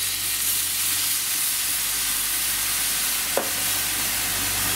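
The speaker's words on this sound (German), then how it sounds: "Die flüssige bzw. die Brühe hinzu, damit sich die Röstaromen vom Boden lösen." Broth hits the hot base of a Dutch oven, loosening browned bits, giving a loud, steady broadband sizzle and hiss that holds evenly throughout, with one brief tap near the end.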